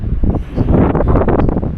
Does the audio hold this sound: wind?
yes